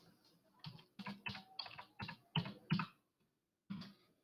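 Short bursts of clicking keystrokes on a computer keyboard, several quick taps in an uneven rhythm with a brief pause before a final press, close and fairly quiet.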